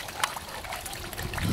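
Water bubbling and trickling in a small garden pond, a soft continuous gurgle with light splashy detail, close and steady, no voices heard.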